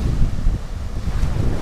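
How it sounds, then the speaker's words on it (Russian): Strong wind buffets the microphone with a continuous low roar over the rumble of sea waves on the shore at the Sanzhiika beach, with no voices. "Ветерок, шум, красивое море."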